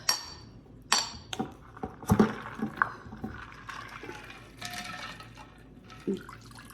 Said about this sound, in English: So my ice cubes. Pour it in my glass.